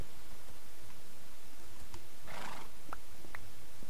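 In Minecraft, a horse gives one short neigh midway, clear and fairly near, with a few faint clicks and hoof taps around it against quiet game ambience.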